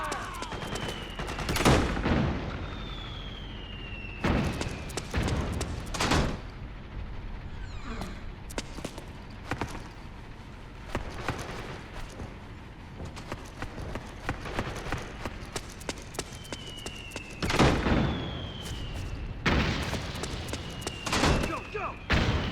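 Suppressing gunfire in the video game Metal Gear Solid 4, in South America, with sharp bursts of shots recurring in clusters over a long stretch, mixed with thuds, footsteps and shouted voices amid a busy battle.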